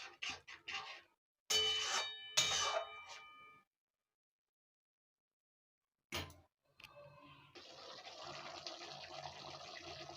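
Water poured into a pot of doi curry, a short pouring splash followed later by a steady stream filling, broken by brief clinks and a long silent gap, close and without speech.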